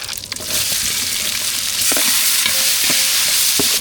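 Onions and tomatoes sauté in hot oil with mustard seeds and curry leaves in a pan, a loud steady sizzle close by, broken by occasional scraping stirs of a spoon. No one talks.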